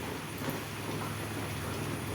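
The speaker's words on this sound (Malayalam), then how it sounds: "നല്ല മഴയാണ് ഗൈസ്" Steady, dense hiss of heavy rain pouring down, filling the whole clip without pause and no voices.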